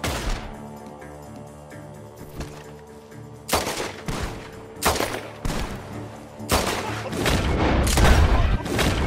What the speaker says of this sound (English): The gunshots are coming from